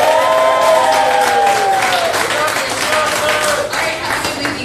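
An audience at a guest speaker's talk applauds and cheers in a dense, steady wash of clapping, with a few voices rising through it.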